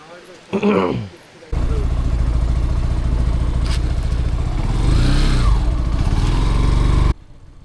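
A motorcycle engine pulls steadily in first gear on a hilly forest road, a loud, continuous close-up drone with slight rises in pitch, preceded by a short burst of wind or handling noise.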